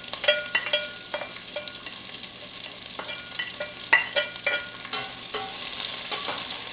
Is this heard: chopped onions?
yes